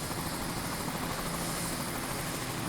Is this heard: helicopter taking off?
yes